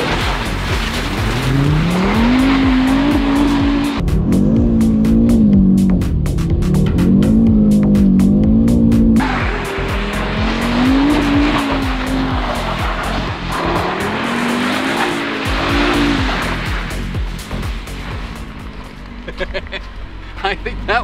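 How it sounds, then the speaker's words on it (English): An Audi RS3 in RS Torque Rear mode, all traction control off, drifts with long wavering tire squeals over a loud revving engine, close and sustained, while people talk excitedly throughout. "So now, we should be able to do some really nasty drifts."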